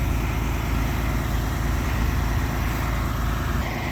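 A diesel truck engine idles steadily during exhaust regeneration, a continuous low rumble with a dense mechanical hum and no voices.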